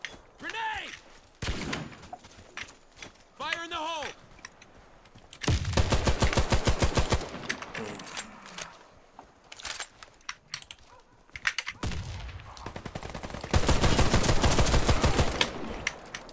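An HCAR automatic rifle fires in the video game Warface, with two long rapid full-auto bursts and a few shorter volleys; someone talks over the quieter opening stretch.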